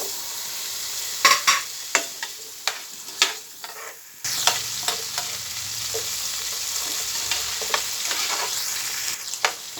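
Carrots and potatoes fry in butter, starting with sparse spatula taps and clacks, then a louder steady sizzle sets in midway as the vegetables hit the pan, close up with occasional stirring knocks.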